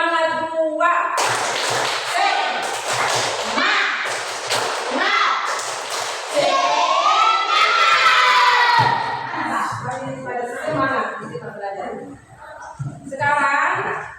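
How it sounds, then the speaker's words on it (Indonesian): A school class performs the rhythmic 'tepuk semangat' clapping chant, children's voices chanting together in time with sharp, patterned claps and thumps, loud and close, with a teacher's voice among them. "Tepuk semangat dua. Tadi semangat satu, sekarang semangat dua."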